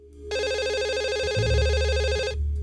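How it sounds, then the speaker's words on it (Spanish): A telephone rings in the point-and-click game Dog Mendonça & Pizzaboy: one loud, close electronic ring holds steady for about two seconds over a low background hum. "voy a coger el teléfono, si no va a estar sonando todo el rato"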